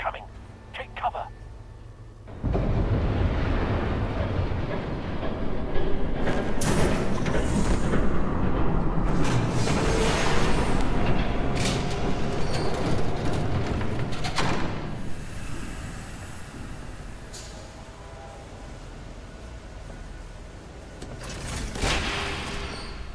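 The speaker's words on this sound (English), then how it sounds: "There's a train coming. Take cover." A train rushes past in Batman: The Telltale Series, a loud sustained roar with rattling and clanking bursts that rises abruptly, holds for about twenty seconds, and eases slightly near the end.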